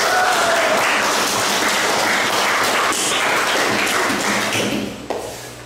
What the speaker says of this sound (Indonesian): Beri tepuk tangan untuk Rosa dulu.